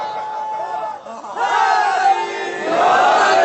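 At a Shia majlis, a large gathering shouts a religious slogan in unison. Two loud swelling waves of massed voices rise after a short lull, echoing through the hall.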